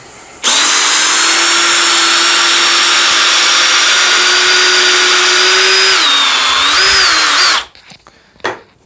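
A Parkside PPBSA 20 Li A1 cordless driver runs loud and steady backing a screw out, its pitch dipping and wavering near the end before cutting off, followed by a brief clack.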